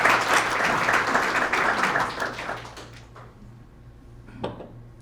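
A round of applause from an audience at a city manager's update to a chamber of commerce in Kirkland, dense clapping that starts loud and thins out over a few seconds, leaving a few scattered claps.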